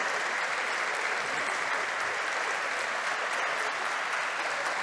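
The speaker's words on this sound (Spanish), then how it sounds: "les pido ese caluroso aplauso" Steady, dense applause from a sizable crowd at a tribute ceremony, sustained evenly throughout with no pauses.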